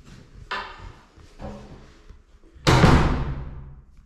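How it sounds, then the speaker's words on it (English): Carpenter-made wooden doors of an old townhouse in a former convent quarter swinging shut, two softer thuds followed by a loud, resonant close that rings out briefly, heard alone. "great sound of the wooden doors closing"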